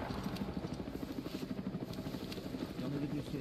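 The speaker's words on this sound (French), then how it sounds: "Attention, hélicoptère." A helicopter in a wartime setting in Yugoslavia, a steady rhythmic rotor thumping that persists throughout, moderately loud and somewhat distant, with voices heard faintly underneath.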